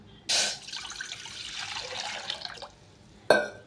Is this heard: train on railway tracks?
no